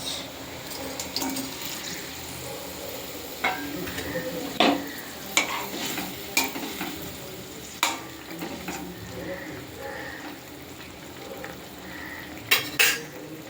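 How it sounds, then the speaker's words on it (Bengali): Parshe fish curry gravy bubbling in a pan while a utensil stirs it, scraping and clinking against the metal at intervals over a steady simmering sizzle, with a few louder clanks near the end. "ঝোল ফুটে উঠেছে, আমি এবার দিয়ে দিচ্ছি।"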